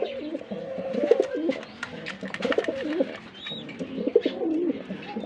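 Racing pigeons kept for breeding, with eggs and chicks, coo in low, repeated rolling phrases, fairly close and steady, with faint chirps above and no talk.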